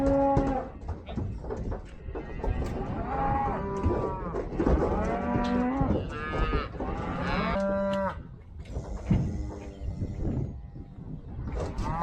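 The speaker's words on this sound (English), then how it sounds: "First load of calves are in the trailer." Calves and cows loaded in a livestock trailer moo and bellow repeatedly, several animals calling over one another at close range amid constant shuffling and clanking.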